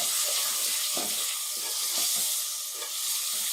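Chopped tomatoes hitting hot oil with browned garlic for aloo palak, giving a steady close sizzle and frying hiss with soft stirring scrapes throughout, no voices.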